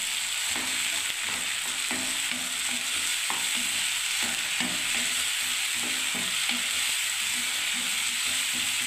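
Chopped onion, ginger, garlic and tomato paste masala sizzles steadily in a pan for a soybean and potato curry. A spatula scrapes and stirs it in irregular strokes, close and continuous, with no talking.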